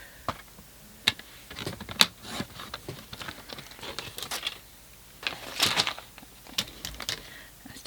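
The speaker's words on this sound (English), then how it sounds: "Just going to trim that down quickly." Vellum paper being trimmed on a paper trimmer for a shimmer vellum card: a series of close, sharp clicks and short scraping slides from the blade and paper, irregular and quiet, with no talk.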